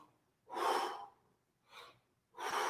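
Three deep breaths taken during a vocal breathing exercise, each a soft, airy rush of air separated by short pauses of quiet, close and fairly gentle.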